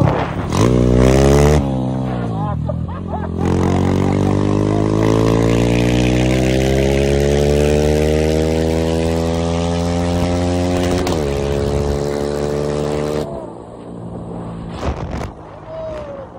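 A Honda Sahara 300 Rally motorcycle engine with an MT-09 piston and a new exhaust revs close by, climbing and falling in pitch through gear changes in a long, loud run before dropping back to idle.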